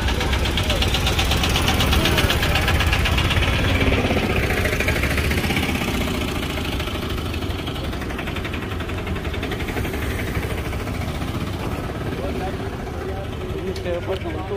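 A vehicle engine runs at a steady, loud idle with a knocking, vibrating rumble throughout, heard close up at a Bareilly vegetable and fruit market while people talk nearby.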